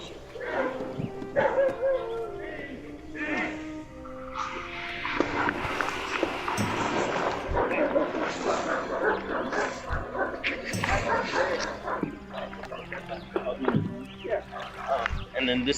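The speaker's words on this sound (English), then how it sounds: "I'll let you get the dogs locked up" Several dogs bark, yip and whimper inside a home during a police search with a warrant, producing repeated sharp barks close by, mixed with people talking and footsteps throughout.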